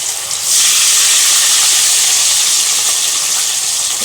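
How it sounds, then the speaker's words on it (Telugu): Bitter gourd slices frying in hot oil, a loud, close, continuous sizzling hiss that swells as more slices go in and then holds steady, with no talk. "ఈ తీసేసిన దాంట్లో మిగిలినవి కూడా ఇప్పుడు వేసేస్తున్నాను"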